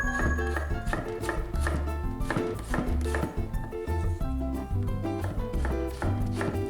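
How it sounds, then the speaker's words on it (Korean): A knife rapidly slices a pear into even julienne strips on a cutting board, giving a steady run of crisp chopping taps throughout, with no talking. "통째로 놓고 슬라이스해서 잘라주시고요."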